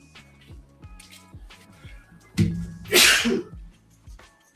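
A single loud sneeze bursts out near the microphone after a wind-up inhale, set among quieter background speech and faint clicks.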